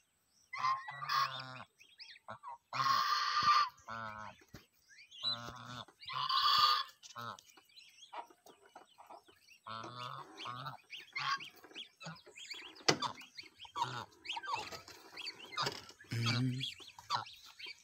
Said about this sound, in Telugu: చూసారా ఈ బాతులు ఎంత అందంగా ఉన్నాయో